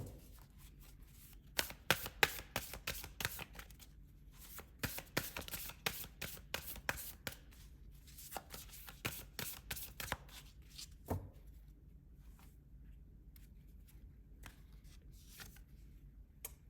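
Tarot cards shuffled up close in dense bursts of quick, papery riffling over the first ten seconds, then trailing off into a few sparse flicks, with no voices.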